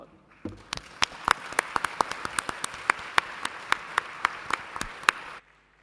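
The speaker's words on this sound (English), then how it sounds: "And please thank the panel on our behalf." Audience applause at an energy summit session in Singapore, thanking a panel: a dense wash of clapping with sharp individual claps standing out, fairly close and steady for about five seconds before stopping abruptly.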